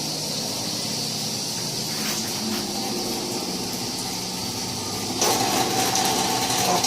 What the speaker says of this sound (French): Et donc ça c'est le bruit du moteur, quand on l'allume.